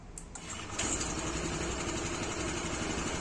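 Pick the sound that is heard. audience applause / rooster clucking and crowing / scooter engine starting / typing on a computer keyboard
scooter engine starting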